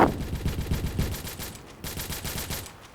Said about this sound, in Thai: เหมือนว่าทางขวาจะมีคนยิงกันนะ